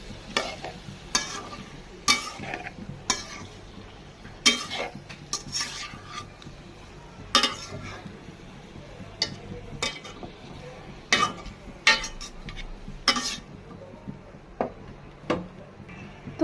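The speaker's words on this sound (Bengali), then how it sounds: "আমি সেদ্ধ করা চালতাগুলো দিয়ে দেব এবং ভালো মতো নাড়া নিয়ে দেব।" Boiled elephant apple (chalta) being stirred in a pan, with a steady low sizzle of frying under repeated sharp scrapes and clacks of a spatula against the metal, close and fairly loud, alone without talk.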